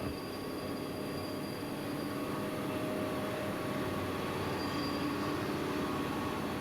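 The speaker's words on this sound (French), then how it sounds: "Voie 5, roulement d'acier, la rame 16 du TGV" A TGV trainset rolls along steel rails at track 5, a steady, loud, broadband rumble with faint whining tones holding throughout, with no voices.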